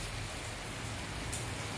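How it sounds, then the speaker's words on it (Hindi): Heavy rain pours steadily outside a house in a dim, darkening evening, a dense continuous hiss of falling water with constant drops drumming on surfaces, loud and unbroken from start to end. "फुल तेज बारिश आ रही है"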